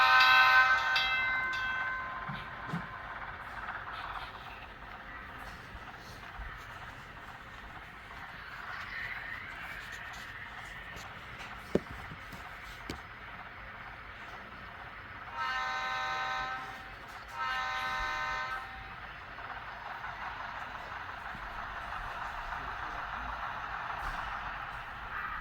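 Model trolley running on an automated layout, a faint rolling hum with electronic horn toots and bell-like tones sounding in a few spaced bursts, quiet and close, one sharp click midway.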